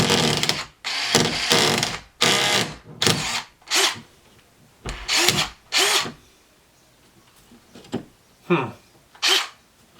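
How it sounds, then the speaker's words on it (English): A DeWalt cordless drywall screw gun drives screws in a series of loud, close bursts of whirring, each a second or less, separated by short pauses and growing sparser toward the end. "let's try out this drywall screw gun"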